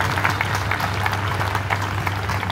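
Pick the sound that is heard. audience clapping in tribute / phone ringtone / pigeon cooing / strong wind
audience clapping in tribute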